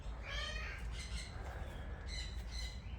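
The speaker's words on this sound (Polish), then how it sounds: "Wy słuchajcie ptaszków" Parrots and other birds in a garden in the morning give repeated harsh squawks and calls at moderate distance over a constant hiss of background noise.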